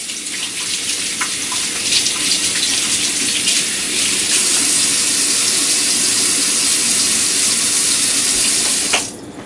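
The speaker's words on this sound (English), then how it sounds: "So I'll give my hands a quick wash." Hands being washed under a running kitchen tap: a loud, steady gush of water splashing into the sink, continuous for several seconds before cutting off near the end.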